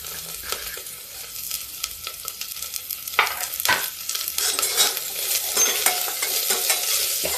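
Onions sizzle in a pan while a spoon stirs in irregular scraping strokes, the frying hiss rising over several seconds, close up and fairly quiet with no talk.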